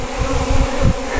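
Dense, loud buzzing of many honey bees around a hive, a continuous close-up drone with no voices.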